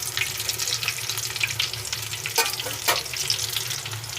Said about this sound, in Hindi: अब 3 मिनट तक के लिए हम दूसरी साइड भी फ्राई होने देंगे।